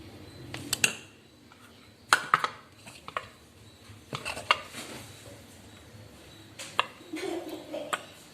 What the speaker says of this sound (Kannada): ಚೆನ್ನಾಗಿ ಮಿಕ್ಸ್ ಮಾಡಿಕೊಂಡು ಇಡ್ಲಿ ಪಾತ್ರೆಗೆ ಹಾಕ್ಕೊತೀನಿ